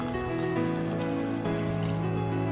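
Water is poured into a bowl of patra batter made from gram flour, a short, steady trickling splash heard close up with no talking.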